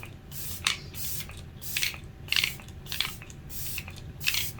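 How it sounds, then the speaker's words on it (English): An e.l.f. Stay All Night Microfine Setting Mist is spritzed onto a face in about six short, crisp hissing bursts, each separated by brief pauses, close and fairly quiet. "let me go ahead and set my face first with my e.l.f. Stay All Night Microfine Setting Mist"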